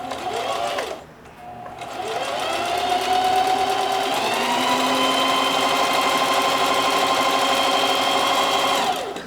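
A sewing machine stitches through denim in a practice session, starting with a short burst, pausing briefly, then running in one long, steady, close whirring stretch.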